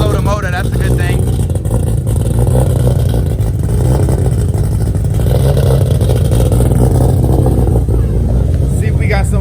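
A car engine is revved while the repaired transmission is tested, a loud sustained low rumble with rising and falling revs and some mechanical clatter, close up, with a voice talking over it.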